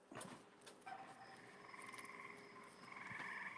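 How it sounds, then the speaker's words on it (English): Frogs croak outdoors in a steady chorus of rhythmic, pulsing trills and calls, several overlapping at moderate distance and growing fuller toward the end. "I hear frogs."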